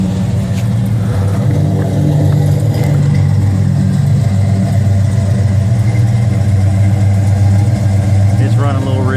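The engine of a 1969 Dodge Charger fitted with a brand-new exhaust idles steadily with a deep, rumbling burble, running a little rich, loud and continuous throughout.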